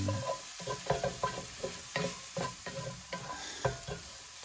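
A spoon scrapes and stirs pork and cabbage stir fry in a pan, a steady run of sharp, close knocks and scrapes at an uneven rhythm over a soft sizzle.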